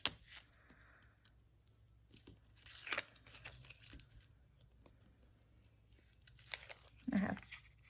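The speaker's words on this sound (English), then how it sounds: "grab my little tool to pick the back of the tape off" Backing layer peeled off adhesive vinyl tape with a small pick tool during a Christmas wood decor craft, giving faint, close tearing and crinkling rips in short bursts amid quiet pauses.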